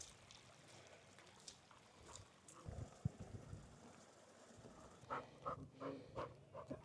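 A dog panting heavily outdoors on a walk, with rapid breathy huffs that grow louder and more insistent toward the end, over faint wind and background noise.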